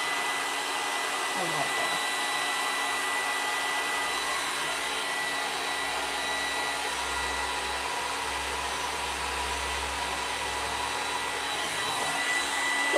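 Handheld dryer blowing steadily and close on liquid patina and decoupage-and-transfer medium on a fireplace mantle, a continuous airy roar that runs the whole time with brief talk over it.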